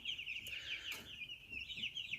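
Around fifty Cobb 500 broiler chicks peep steadily in a brooder, a continuous high chorus of overlapping cheeps close by, with a couple of brief louder bursts and faint low rustling beneath.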